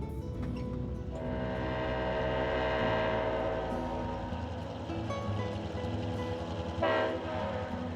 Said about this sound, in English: Passenger train lumbers through the night. Sounds of its horn and clanking cars reflect off the distant hills.